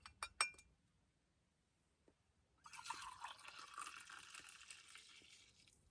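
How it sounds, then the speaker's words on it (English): A coffee maker finishing its brew: a few sharp clinks, then near-silence, then a faint hissing gurgle of coffee dripping and trickling into the pot for the last few seconds. "We got some coffee going here. Just a little bit left that needs to drip."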